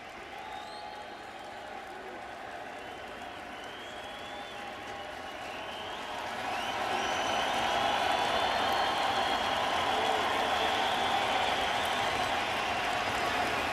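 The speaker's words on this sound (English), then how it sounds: "They're telling the fans to stand up and applaud Sandy." Baseball stadium crowd at a Marlins home game applauding, a broad steady wash of clapping and cheering that swells louder midway and holds, with no talk over it.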